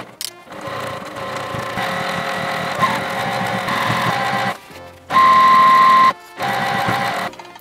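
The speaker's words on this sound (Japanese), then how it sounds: "そうしたら三つ折りのところのところ、ここ端っこミシンかけていきます。" A sewing machine runs a straight stitch along the edge of a triple-folded hem on remade boro fabric, a steady close mechanical whir that pauses briefly twice before resuming.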